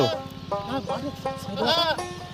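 Several goats bleat close by on a village path in short, wavering cries, one after another, over a low background rumble.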